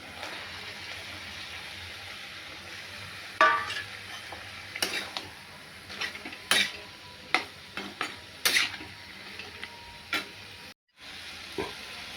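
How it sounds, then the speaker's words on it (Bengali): Potato and eggplant are stirred as they fry in spices, with scattered scrapes and clacks of the utensil against the pan over a low, steady sizzle, close but fairly quiet, and no talking. "মশলা কষা হয়ে এসছে, আলুটা দেবো এবার, আলু বেগুনটা দেবো, দিয়ে তারপর নাড়বো।"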